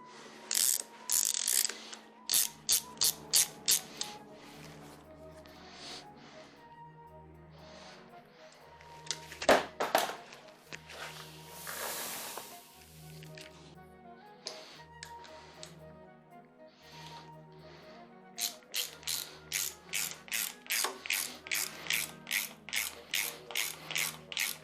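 Ratchet wrench snugging down head bolts during assembly of an engine, heard as repeated quick clicking bursts, close and clear, pausing and resuming across the clip with some clanks and shuffling between.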